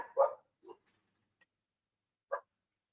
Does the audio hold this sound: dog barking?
yes